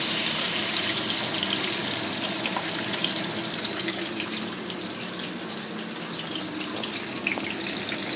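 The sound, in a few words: water poured onto ground mustard paste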